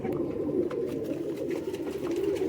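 Pigeons kept by a fancier for high flying, cooing steadily and softly in a low, continuous murmur with faint background noise and no clear talk.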